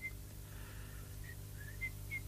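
Someone whistles a short, faint tune while strolling along the seashore, a few thin, separate notes over a low, quiet background hum.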